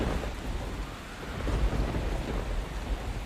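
A heavy thunderstorm with strong rain, a dense steady roar of downpour with deep rumbling thunder swelling in the middle, loud and continuous with no voices.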